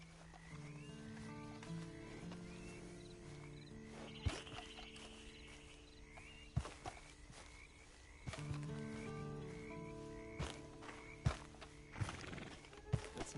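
Horse in the Red Dead Online game, with faint hoof clip-clops, snorts and a neigh set among frog croaks and low ambient game music, all quiet and at a distance.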